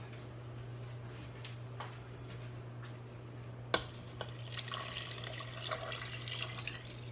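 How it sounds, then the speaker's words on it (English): Vegan broth pours into an Instant Pot for sauerkraut stew, a soft liquid splashing and trickling that swells after a clunk midway, over a steady low hum in a quiet kitchen. "And now we add the remaining 4 cups of vegan broth."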